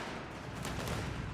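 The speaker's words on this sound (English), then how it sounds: "that amount of small arms fire is also a threat" Small arms fire in a real-time strategy video game crackles as a dense, distant rattle of rapid shots, with a brief louder burst midway and no talking.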